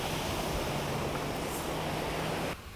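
Soft, steady wash of ocean surf at a Busan beach, a faint continuous hiss of breaking waves that cuts out abruptly near the end.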